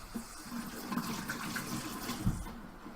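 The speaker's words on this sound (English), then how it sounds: "I've got to wash my hands." Hands are washed under a running tap, a soft steady stream of water splashing into a sink at low level, with faint rubbing and a brief heavier splash near the end.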